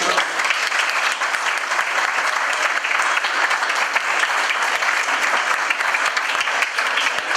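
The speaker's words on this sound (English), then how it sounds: "a quick round of applause for Roisin" A crowd at a celebration in Southend gives a sustained round of applause, dense and steady from start to finish with no pauses.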